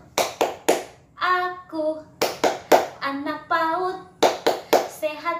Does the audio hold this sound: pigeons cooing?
no